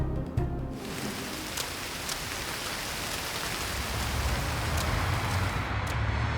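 Steady heavy rain pours over a dam construction site, a dense even hiss that holds for the whole stretch with no voices.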